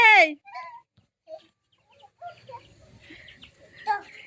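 Young chickens give a sharp call followed by scattered short clucks and chirps, close by, with voices talking softly in between.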